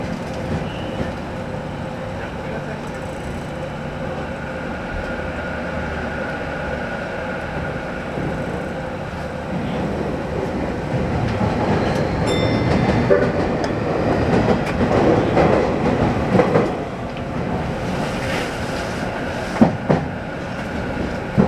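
A Keio Inokashira Line train arrives at Meidaimae station with a steady rolling rumble heard from inside. It swells with rattling and wheel clatter midway, then eases, and a few sharp clicks come near the end.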